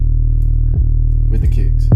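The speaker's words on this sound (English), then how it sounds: "putting on my 808 is this flange again and saturator, of course" Deep 808 bass processed with flange and saturation, holding a sustained, rubbery low tone while a voice talks over it.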